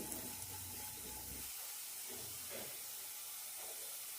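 Beans and carrots sautéing in a pan over a low flame, giving a steady soft sizzle and hiss throughout, with faint stirring scrapes.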